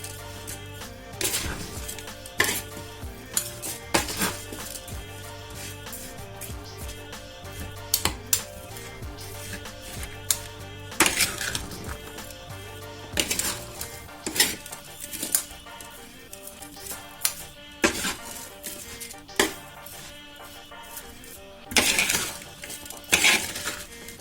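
Rice with vegetables and spices stirred in a pot, giving scattered scraping and clinking strikes of a utensil against the pot, irregular and close, with no talking.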